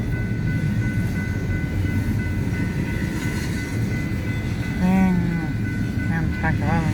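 A Union Pacific freight train rolls across the Mill Street grade crossing in Kelso, a loud continuous low rumble of wagons with a steady tonal ring, and a brief rising horn-like tone partway through.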